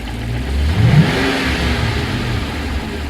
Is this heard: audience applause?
no